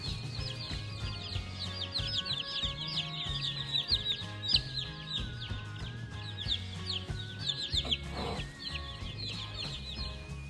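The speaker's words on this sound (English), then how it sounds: "so the Cornish cross meat birds" A flock of Cornish cross meat chickens cluck and chirp continuously nearby, many overlapping soft calls over a low background hum.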